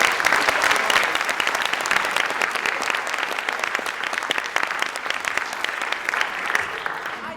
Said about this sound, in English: I decided to try and stop you clapping.